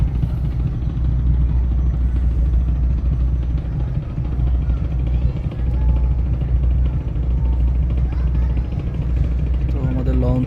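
Passenger launch boat engine in reverse gear pulling away from Kodalpur launch ghat: a loud, continuous low diesel drone and throb with water noise, steady throughout, with a person talking over it.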